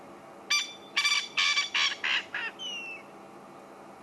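A bird calls on an evening safari drive in the African bush, giving a run of six or seven harsh, raspy squawks in quick rhythm that end in a thin, falling whistle. The calls are loud and fairly close against a quiet background.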